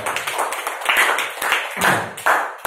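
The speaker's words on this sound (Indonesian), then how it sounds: "Beri aplaus buat Harvest Agency ya" Small group applause for Harvest Agency at a motivational talk, a short burst of uneven, close claps with a few sharp accents.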